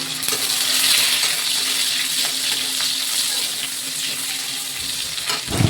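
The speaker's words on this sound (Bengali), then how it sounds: "তো চলো ডালটা আগে ফোড়ন দিয়ে নিই।" Dal is tempered with spices in hot oil, giving a loud, close, continuous frying sizzle with light stirring and a small clink near the end.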